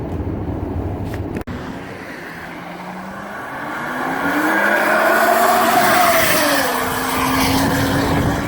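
A supercharged 1992 Lincoln Mark VII hot rod drives past. Its engine note swells from a distant hum into a loud, close roar with a rising and falling whine as it passes, then recedes.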